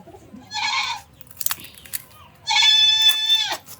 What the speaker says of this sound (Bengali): ওরে আমাদের ছাগল কিন্তু খুব ভালো গান গায়, চিকন কণ্ঠ, মোটা কণ্ঠ